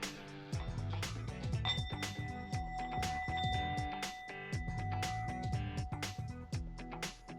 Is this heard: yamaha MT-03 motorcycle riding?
no